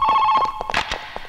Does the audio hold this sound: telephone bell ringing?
yes